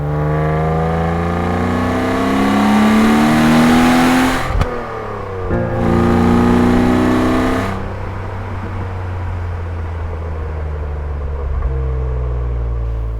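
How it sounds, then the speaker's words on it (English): An E36 BMW six-cylinder engine revs hard twice, its pitch climbing in smooth sweeps before dropping back, then settles into a steady low idle. Loud and close, with no voices. "A perfect fifth is actually naturally produced by 6-cylinder engines, as I can quickly demonstrate with this clip of my E36 BMW."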